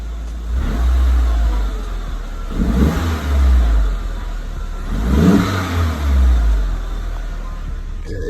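A VW Mk4 GLI with a CTS turbo intake revs twice with the hood closed, each throttle blip swelling loudly from a steady idle and falling back, close by.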